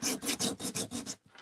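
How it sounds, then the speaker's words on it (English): A sanding block rubs back and forth over red-painted wood, about seven quick, even scraping strokes close up, then it stops. "let me get a sanding block here"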